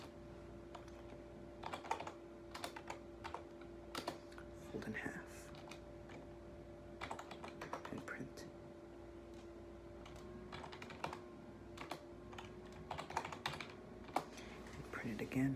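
Computer keys clack in quick irregular bursts while someone codes in Java, close and crisp over a faint steady hum, with a soft voice speaking briefly partway through.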